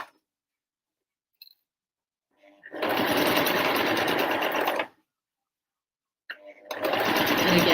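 A sewing machine stitches two layers of bucket hat fabric in two bursts, a steady two-second run, a pause with a few faint clicks, then starting up again, close and loud with no talking.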